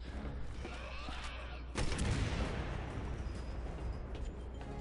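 Gunfire from a weapon usable by Chris and Piers in the video game Resident Evil 6, heard as a sharp blast that leads into a dense, sustained rumble of shooting and explosions with no talk.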